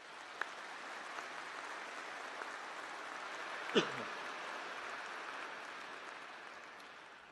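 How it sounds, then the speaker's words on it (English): A spring university commencement crowd gives a long, even round of applause, a steady distant roar of many clapping hands with a brief spoken word and a short voice-like sound partway through. "Several round of applause for these individuals."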